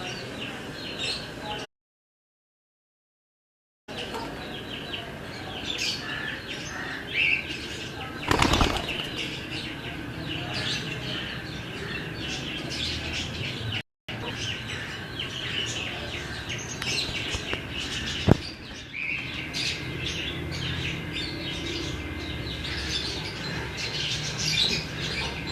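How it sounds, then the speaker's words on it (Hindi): A female Teddy pigeon fusses in a loft with repeated flurries of wing flapping and scattered squawks and chirps, close by and fairly quiet, with brief dropouts and one sharp clack along the way. "ये जी टेडी कबूतर है।"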